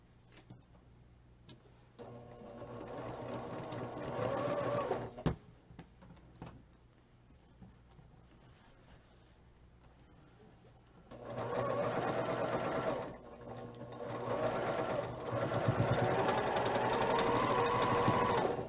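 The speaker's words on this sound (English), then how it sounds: "I want to make sure I'm sewing right where those threads cross so I don't cut off my points" A sewing machine stitches across a quilt block for a Christmas block-of-the-month, sewing where the threads cross. It runs in short bursts, with a quieter stretch of fainter mechanical ticking between, and the longest run comes at the end.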